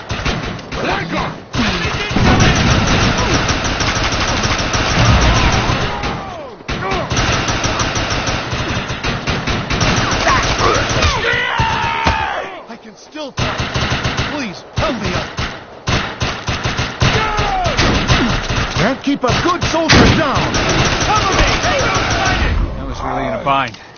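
Gunfire in the shooter game Defiance, rapid bursts of shots and heavy thuds packed densely together, loud and close, with voices talking over the fighting.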